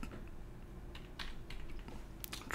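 Typing on a computer keyboard during a modded Minecraft session: a run of soft, close key clicks in uneven bursts, heard alone over a low steady room hum.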